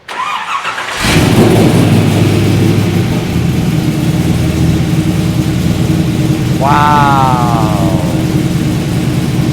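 A classic Corvette engine cranks and catches after a second of quiet, then settles into a steady, rumbling idle close by, with one brief rev around the seventh second and a short spoken exclamation at the start.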